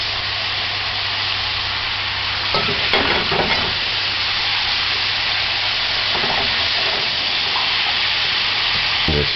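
Carrots sizzle steadily in a pan of stewed cabbage, a constant close frying hiss broken by a few scraping stirs of a utensil.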